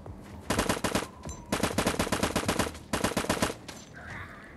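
Automatic gunfire from the zombie survival game LifeAfter rattles out in three rapid bursts separated by short pauses, crisp and close.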